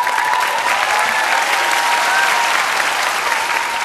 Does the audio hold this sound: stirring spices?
no